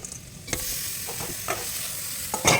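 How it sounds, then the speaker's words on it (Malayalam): Pork pieces hitting hot ghee and masala in a pan for a Kerala-style pork roast, with a steady sizzle underneath and a few sharp stirring scrapes and clatters, the loudest near the end. "അപ്പോൾ ഇതിലേക്ക് നമ്മൾ ഇനി നമ്മുടെ ഇറച്ചി ആഡ് ചെയ്യുകയാണ്."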